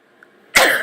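A single sudden sneeze bursts out loud and close after a near-silent moment, its breathy blast trailing off quickly, heard during a news segment about a cracked rollercoaster at Carowinds.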